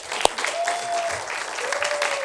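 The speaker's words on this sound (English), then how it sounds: "a round of applause for him" Studio audience applause for a guest on a comedy news show, a dense burst of clapping after one sharp near clap, with a faint whistle-like tone drifting above the steady crowd noise.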